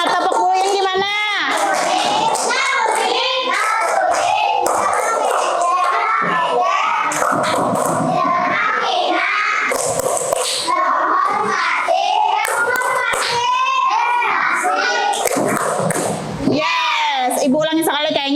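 Schoolchildren in an Indonesian classroom performing a rhythmic group clap chant, bursts of sharp hand claps in patterned beats woven through loud chanting voices of the kids and teacher throughout.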